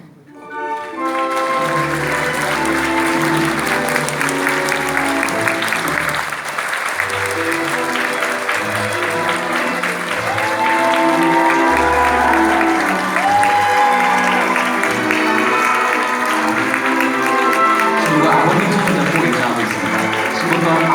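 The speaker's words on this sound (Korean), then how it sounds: "신부가 입장할 때 힘찬 박수와 환호로 마주해 주시길 바랍니다." Wedding guests greet the bride's entrance with sustained applause and cheering over music playing in the hall, the clapping rising quickly and continuing at a steady, full level for the whole stretch.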